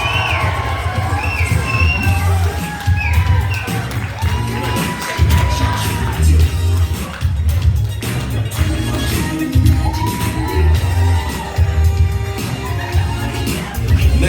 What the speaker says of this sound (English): how about a nice big round of applause for this next couple coming in